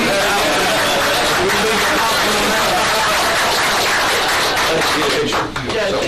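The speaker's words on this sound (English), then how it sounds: "And a round of applause for Betty Gale." Loud applause and crowd noise rise from the audience at a county fiscal court meeting, dense clapping mixed with chatter and voices close by throughout.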